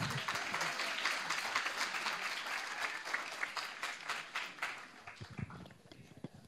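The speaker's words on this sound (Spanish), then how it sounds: "podéis aplaudir, eh, no pasa nada." An audience at a university welcome day bursts into dense, sustained applause that carries on for several seconds and then thins toward the end, with some scattered voices underneath.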